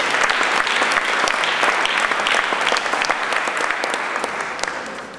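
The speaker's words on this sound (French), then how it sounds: "On applaudit Serial Dreamer." Enthusiastic audience clapping for a performer at a poetry slam in Mons, loud and dense with crisp individual hand claps, gradually tapering off toward the end.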